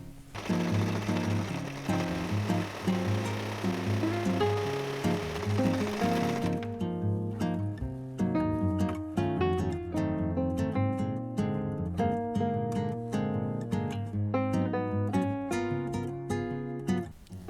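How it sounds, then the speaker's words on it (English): Sewing machine running a zigzag stitch along a folded hem of thin fabric, starting as a steady continuous whir and then breaking into rapid rhythmic stitching ticks, close and alone. "I'm going to zigzag stitch it, folding a little bit so it's nicely hemmed"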